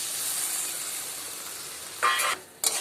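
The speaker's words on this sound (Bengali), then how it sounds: "এবার ভালো করে কষিয়ে নেব।" Ground cumin, coriander and chilli paste fry with chicken stomach in a pan, a steady high hiss of sizzling broken by two brief, louder bursts as the mixture is stirred, with no talking.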